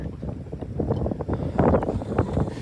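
Strong wind gusting over a boat at Blue Bank Resort as it drags backwards against a 60-pound anchor, a steady broadband roar with louder buffeting surges toward the middle and end.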